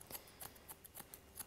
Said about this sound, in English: we're just going to take our thinning scissors and just blend that in